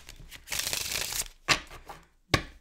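Tarot cards given soft shuffles: a long riffling burst of about a second, then two short crisp shuffle sounds, close and quiet with no talk.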